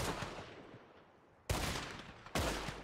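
Gunfire in the video game Red Dead Redemption 2: a steady rumble of distant shooting, then two loud, sharp nearby shots about a second apart, each followed by a decaying boom, with no voices.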